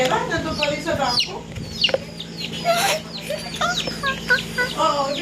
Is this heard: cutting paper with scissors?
no